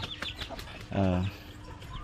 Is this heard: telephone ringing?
no